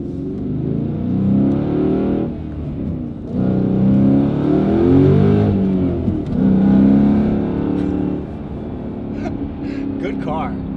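Dodge Challenger Scat Pack with an aftermarket Valvetronic Designs valved exhaust, revving loudly in repeated rising and falling bursts with crackling overrun, close by, with brief speech at the end.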